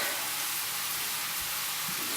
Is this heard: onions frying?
yes